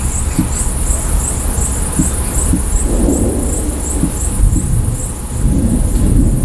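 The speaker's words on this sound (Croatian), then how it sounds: "Čuješ da se ovdje čuje kiša?" Thunderstorm with rain in Zlatibor, with a steady close patter of rain, occasional drips and taps, and low rumbles of thunder building in the middle, with no one speaking.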